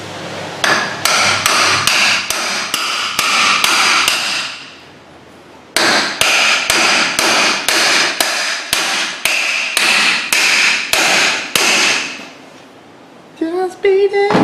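A hammer beats a part onto the splines of a Ford F-250 front end, two long runs of sharp, evenly spaced metallic blows, loud and close, broken by a short pause and ending with brief clanks.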